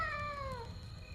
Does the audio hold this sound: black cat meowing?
yes